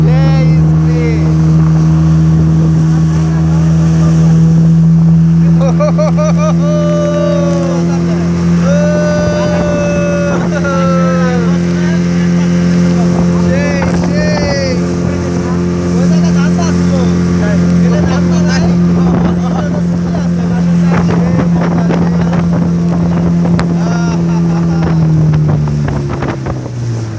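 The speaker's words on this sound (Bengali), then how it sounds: "স্পিড বোট চলতেছে। ও মাই গড, ও মাই গড, সেই স্পিড।" A speedboat races across the water, its engine a steady loud drone under heavy wind buffeting, with voices audible over the noise.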